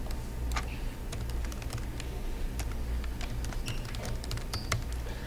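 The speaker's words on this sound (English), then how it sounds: "So I typed in my username and password for my computer and click Login." Typing on a computer keyboard to enter a username and password, a steady run of quick, light key clicks with irregular rhythm over a low background hum, close and moderately quiet.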